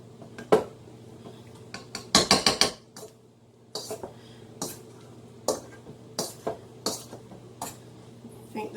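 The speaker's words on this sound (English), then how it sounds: "So we're going to mash these potatoes, and we're going to get them really good and mashed." Hot potatoes are mashed in a pot, with a string of sharp metal clanks and scrapes as the utensil strikes the pan. A quick cluster of hits comes early, then spaced, steady knocks.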